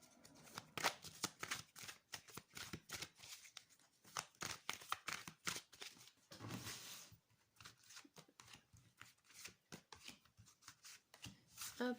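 A tarot deck is shuffled up close, with a long, steady run of soft riffles and flicks that continues for the whole stretch.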